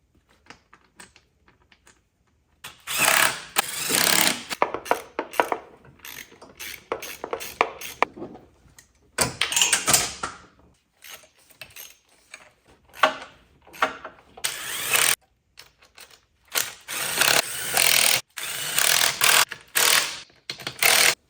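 A tool drives the valve cover screws back into an engine during a VVT solenoid replacement, heard as close, repeated bursts of ratcheting, whirring mechanical noise separated by brief pauses, with no talking.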